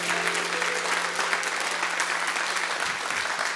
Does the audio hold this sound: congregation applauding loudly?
yes